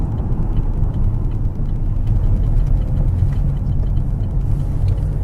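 A 2014 Opel Insignia drives along a bypass, heard from inside as a steady, smooth low engine and road rumble that stays even throughout, with no talking.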